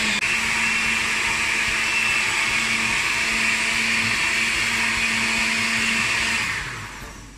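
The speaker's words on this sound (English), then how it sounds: "now we're gonna blend this on high" A blender running on high, pureeing a Jamaican sea moss smoothie, roaring loudly and steadily at close range for several seconds before winding down at the end.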